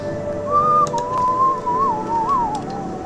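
A person whistles a wandering, wavering tune close by, a single clear whistled line lasting a few seconds over quiet room noise and faint clicks.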